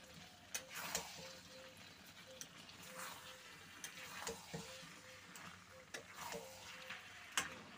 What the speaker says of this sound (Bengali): তো এবারে আমি দিয়ে দিচ্ছি এঁচোড় আর আলু দিয়ে ভালো করে এবারে কষিয়ে নেব